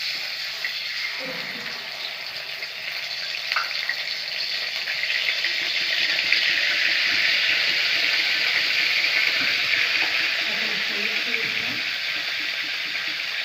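A mixed paste of onion, garlic and ground cumin fries in a pan with a steady close sizzle that swells slightly midway, while background household noise and a voice carry on.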